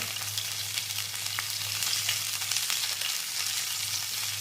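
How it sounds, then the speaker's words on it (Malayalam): Water boils vigorously in a pot for Kerala fish head curry, a dense, continuous bubbling hiss that stays even and close, with no voices. "വെള്ളം നല്ലപോലെ തിളച്ചിരിക്കുന്നു"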